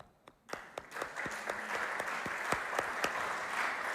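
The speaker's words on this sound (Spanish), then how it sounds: "Démosles una bienvenida con un aplauso." Church congregation at a Sunday service clapping to welcome guests, a few scattered claps first, then steady applause with sharp individual claps standing out throughout.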